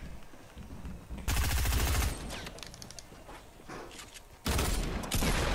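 Rapid SMG bursts in the Fortnite battle royale video game, two loud dense volleys of automatic fire separated by quieter game sounds, with no talk over them.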